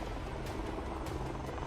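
A HAL Light Combat Helicopter produces a steady, loud rotor roar with a faint rhythmic blade beat, continuous throughout and heard alone without talk.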